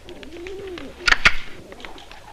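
Pigeons coo softly at close range with low, rolling calls, then a sharp burst of flapping or bright clatter cuts in briefly before the cooing settles again.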